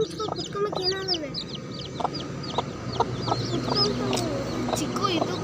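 A hen and her young chicks clucking and cheeping close by, a busy overlapping chorus of high peeps with lower clucks underneath.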